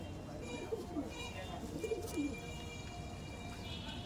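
Soft coos of Madrasi pigeons repeat a few times at close range, under faint background noise and a murmur of voices.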